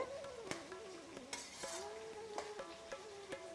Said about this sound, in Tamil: இப்போ இது கொஞ்சம் நல்லா ஃப்ரை ஆகி வந்துட்டுருக்கு